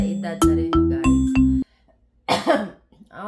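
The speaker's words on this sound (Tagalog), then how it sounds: "inuubo pa ako" A melodic electronic chime rings out in several tones, then after a short silence a woman gives a couple of harsh, close coughs.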